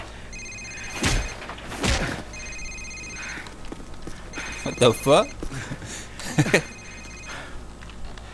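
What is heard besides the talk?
cell phone ringing in video game Call of Duty 4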